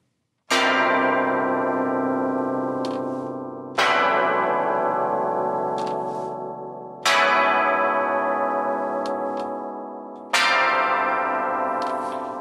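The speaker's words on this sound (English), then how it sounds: "You have luminous chimes." Four synthesized bell chimes from the MNDALA VST plugin's luminous chimes preset ring out one after another, each bright strike sustaining and slowly fading before the next, with no talking.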